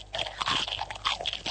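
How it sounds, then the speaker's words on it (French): A dog crunches dry premium-brand kibble, a close, rapid series of crisp crunches and chewing bites with no talking. "Vous allez entendre un chien dévorer des croquettes de grande marque."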